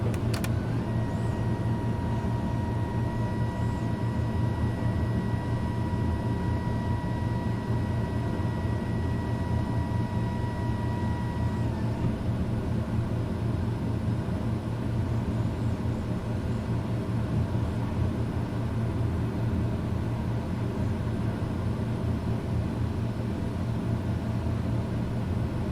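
Pilatus PC-12 turboprop climbing out after takeoff in Microsoft Flight Simulator 2020: a steady, loud engine drone with a high whine that holds for about half the time, then a constant hum alone.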